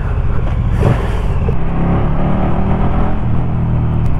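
A road vehicle fitted with a slip-on exhaust drones loudly and continuously while driving, with a deep steady engine rumble and a slight rise in revs midway.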